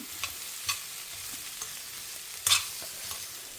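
Grated coconut sautés with vegetables in a pan, a quiet sizzle punctuated by a few sharp spatula scrapes and taps, one louder clatter near the end, and no voices.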